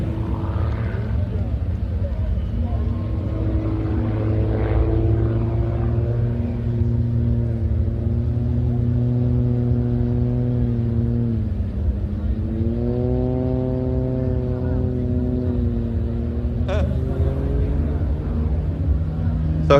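French Air Force aerobatic display jet passing at an air show festival, a steady distant engine drone with a pitch swoop as it goes by, carried under continuous commentary over a loudspeaker.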